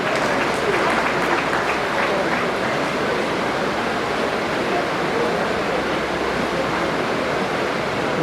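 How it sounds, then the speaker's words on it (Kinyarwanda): Audience applause at an International Day of Cooperatives ceremony in Rwanda, a dense, continuous wash of clapping from a large crowd that holds steady and loud throughout. "turiho amashyi."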